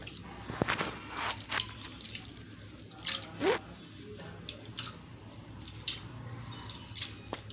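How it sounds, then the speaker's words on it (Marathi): Wet squishing and dripping as flattened rice is rinsed by hand in water, with irregular splashes and soft sloshes close by. "आपण स्वच्छ पाण्याने हा पोहा धुवून घेत आहोत"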